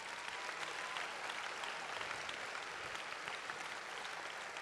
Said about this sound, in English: That deserves an enormous round of applause,